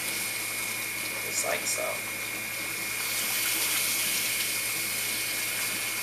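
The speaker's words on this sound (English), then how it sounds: "Just give it a nice squeeze through. Get all the excess shampoo out of the hair." Tap water runs steadily as a wig is washed and squeezed under the faucet, with a couple of brief splashes and a woman's short remark near the start.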